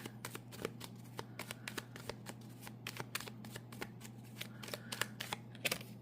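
A deck of cards being shuffled for a card reading, a steady run of quick riffling flicks close by, fairly soft over a low background hum.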